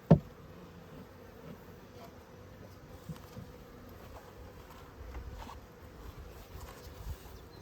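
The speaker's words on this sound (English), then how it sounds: "the good news is that there are still bees in the box" Honeybees buzz faintly in and around a beehive box during a swarm, a low, steady drone with occasional louder passes close by and a sharp knock at the start.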